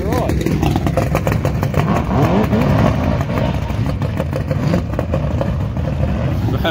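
Engine of a home-built toy burnout car runs with a rough, clattering rumble, loud and close, while people talk over it throughout.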